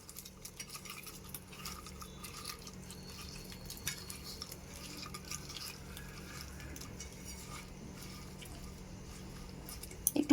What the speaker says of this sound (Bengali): প্রথমে এই মাছগুলোর মধ্যে নুন দিয়ে দিলাম হলুদ গুঁড়ো। এবার এগুলোকে একটু মাখিয়ে নেব।